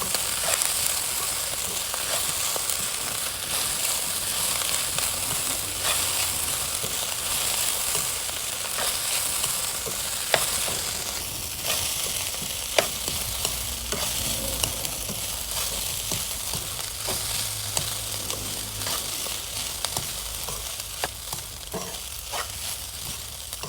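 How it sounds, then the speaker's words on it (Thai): Fried rice with kale, salted fish, onion and tomato sizzles steadily in a hot pan, broken by scraping and clinking as a spatula stirs and tosses it, with no talking. "คนคนคลุกคลุกให้เข้ากัน"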